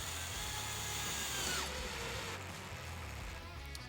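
A power drill drives screws through plywood into a 2x4 while building a cornhole board: a steady, fairly close motor whir that winds down midway, then continued lower mechanical noise.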